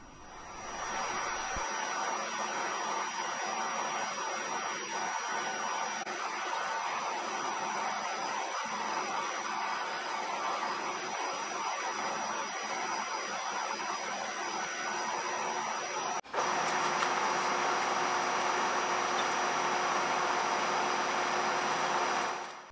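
A small metal ball turned on a lathe and shaped with a needle file gives a steady, close whirring machine drone with a gritty hiss that runs the whole time and grows slightly harsher near the end.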